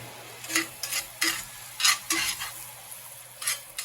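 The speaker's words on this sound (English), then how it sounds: "Now my onions are caramelized just enough." Caramelized onions in a pan, a soft background sizzle punctuated by a rhythmic series of spatula scrapes and stirs, close and clear with no talking.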